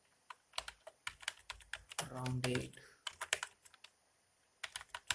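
Rapid keystrokes clatter on a computer keyboard in bursts, close and crisp, with a short spoken word interrupting midway.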